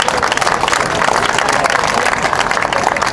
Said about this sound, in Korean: 박수로 청해 주시기 바랍니다.